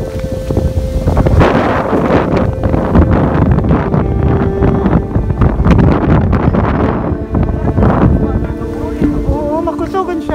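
Strong wind roars and buffets the microphone at a mountain summit on a road trip to Sorsogon, loud and continuous with gusty surges, while voices talk faintly underneath.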